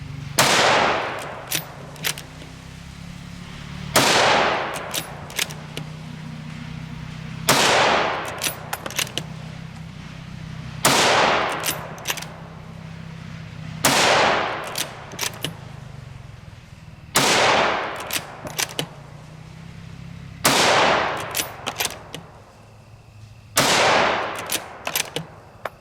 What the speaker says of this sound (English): this is our 24-inch Savage 110 Tactical